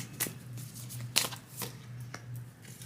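Tarot cards being shuffled close by, a few soft riffling bursts and slaps spaced apart over a faint steady hum, quiet and without talk.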